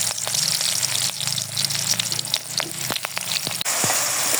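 Onions hit hot oil in a karai and sizzle loudly and continuously at close range, with occasional sharp clinks and stirring scrapes over the frying hiss.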